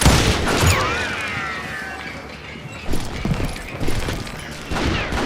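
Gunshots crack in a Call of Juarez: Gunslinger Wild West shootout, a sharp volley at the start followed by scattered, fairly close shots and clatter against a noisy background, with no talking.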